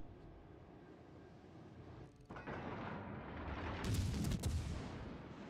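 Naval gunfire in World of Warships Legends: a low rumbling battle ambience swells into heavy artillery booms and cracking impacts, fairly distant and muffled, with no speech.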